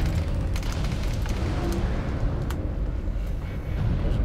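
Several SRM missiles launch together in a mech combat video game, a dense, rumbling volley of booms and bursts that stays loud and steady from start to finish, with no talking.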